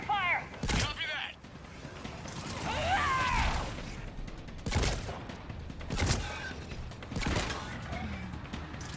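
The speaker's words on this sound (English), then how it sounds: "Give us some cover fire!" Cover gunfire in a Mass Effect firefight: a few sharp, loud bursts of shots stand out over a busy battle bed, with voices talking in between.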